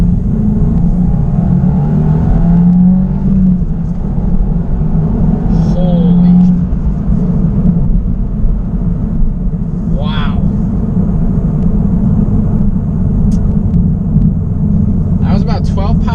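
A 2026 Subaru WRX tS with a catless J-pipe, tune, full exhaust and intake pulls hard in second gear from about 3,000 RPM, its engine a steady, loud low rumble heard from inside the cabin throughout.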